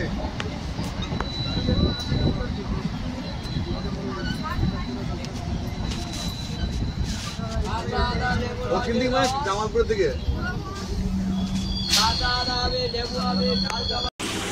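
A Sealdah–Barddhaman local train rumbles along near Memari in East Barddhaman, with steady wheel-and-carriage noise, occasional metallic squeals and a brief tonal whine, while passengers talk throughout.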